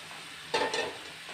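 Dried fish (shutki) dropped into a hot pan of spice paste gives a sudden sharp sizzle that fades over a moment, with faint stirring; no voices.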